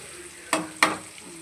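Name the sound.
onions frying in a pan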